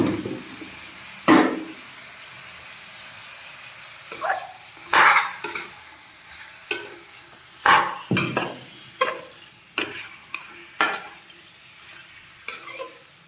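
Pork pieces stirred in a pan: a faint sizzle runs beneath a string of irregular scraping and clinking knocks of a utensil against the metal, some sharp and louder, spaced unevenly throughout.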